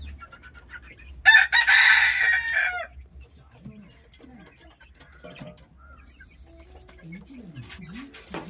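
Country chickens and chicks cluck and a loud burst of crowing rings out nearby, with scattered peeping and faint voices in the background.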